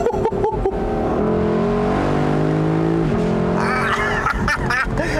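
A 2021 Lexus LC500 Convertible revs hard, its loud exhaust note rising and falling in sharp bursts with crackles, then settling into a sustained throaty roar and climbing again near the end.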